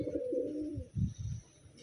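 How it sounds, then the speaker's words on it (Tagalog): A Wantai racing pigeon in Taiwan coos softly up close, a few low throaty burbling notes in quick succession against a quiet background. "Ang gandang ibon guys, oh."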